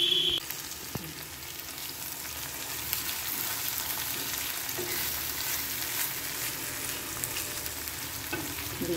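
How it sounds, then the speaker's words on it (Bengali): Chhana koftas fry in a pan with a constant moderate sizzle, broken by a few faint utensil taps and scrapes. "এবার ভেজে নেব।"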